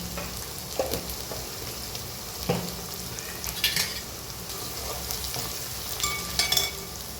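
Ginger and chilli pieces fry in a hot pan with a steady, close sizzle, broken by a few sharp stirring clicks and scrapes; no one speaks.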